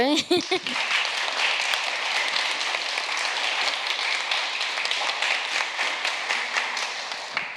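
Audience applause at an exhibition and discussion circle, dense steady clapping from a crowd lasting several seconds, loud and close, with no talk over it.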